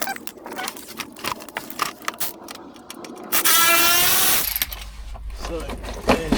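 H4 Allen bolts are undone on a Land Rover Discovery 3, heard as close clicks and metallic tool taps followed by a short burst of power tool whirring, then quieter handling noise.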